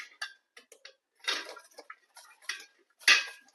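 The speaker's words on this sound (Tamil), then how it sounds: "இந்த பெரிய கண்ணு துருவியில வச்சு துருவிக்கலாம்" Raw tapioca is rubbed over the large holes of a hand grater, making short, close rasping scrapes in irregular bursts separated by brief pauses, with no voice.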